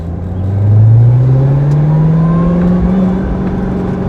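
Corvette Z06 engine fitted with a DSX lid mod rises in a smooth, loud climbing drone as the car accelerates, heard from inside the cabin with a sustained whirring tone.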